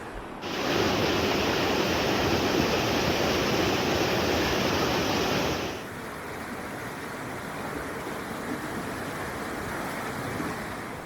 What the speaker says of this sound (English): There's a reason it's a huge bridge, is that raging river.